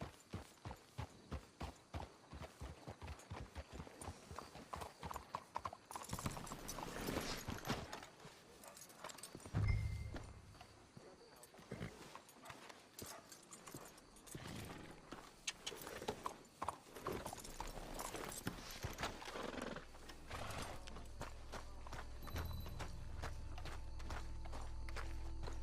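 Horses' hooves clip-clop steadily at a walk in the Red Dead Redemption 2 video game, with rhythmic near footfalls, faint background game ambience and a few louder thuds midway.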